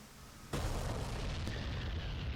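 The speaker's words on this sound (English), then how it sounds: "we should see the first bomb impacting here soon" A 500-pound bomb strikes in the DCS A-10C flight game: a sudden heavy boom erupts after a brief quiet moment, then lingers as a loud, rumbling roar.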